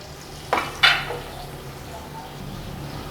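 Whole spices (dried red chillies, star anise, cinnamon and cloves) hit a hot pot for degi-style chana chawal, giving two quick sizzling bursts close together that fade into a low, quiet simmer.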